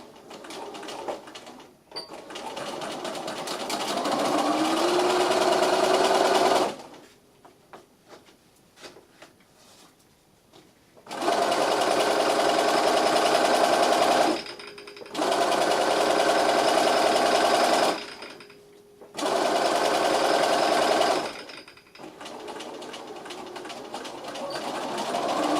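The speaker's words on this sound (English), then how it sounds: "I'm about to start stitching the 3/8 seam on the bottom of the bag" Sewing machine stitching a 3/8-inch bottom seam on a fabric delicates bag, running in three long steady bursts separated by short pauses, loud and close with no talk.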